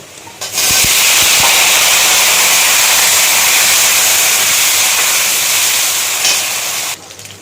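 Chopped bottle gourd, ridge gourd and pointed gourd drop into hot frying oil, setting off a sudden loud, broad hiss that holds steady for several seconds and then cuts off.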